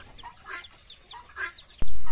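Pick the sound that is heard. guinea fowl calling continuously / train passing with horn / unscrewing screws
guinea fowl calling continuously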